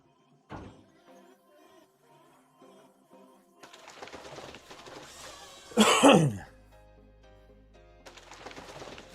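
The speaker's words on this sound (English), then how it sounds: "I tried my absolute best over these 4 hours to not continuously cough down the mic" A single sharp cough near the microphone during a quiet Farming Simulator 25 session, with a few softer throat sounds and faint background noise before it.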